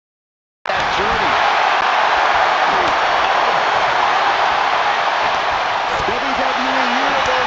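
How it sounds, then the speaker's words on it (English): A capacity arena crowd roars steadily in the WWE 2K25 wrestling video game, a dense, loud wash of cheering that holds without break, with faint tonal calls rising out of the noise. "With every move you make, you hear this capacity crowd."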